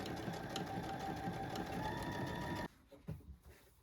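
A sewing machine hums steadily and close while running a straight stretch stitch along a pocket, then cuts off abruptly, followed by a few faint handling knocks.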